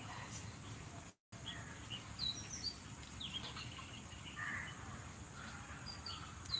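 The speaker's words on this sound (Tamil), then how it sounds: "குருவிகள் கத்துற சத்தம் உங்களை கேட்கட்டும்" Scattered small bird chirps and calls over a steady outdoor hum, faint and distant, with a brief dropout early on.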